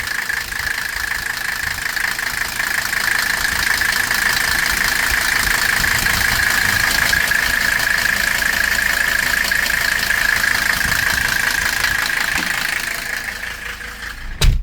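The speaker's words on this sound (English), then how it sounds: "Alright, I felt the compressor kick in. Yep, it's turning." A Mercedes W126 engine idles close by with its A/C compressor engaged and turning, a steady mechanical hum with a whining tone throughout before tapering off at the end; no talk.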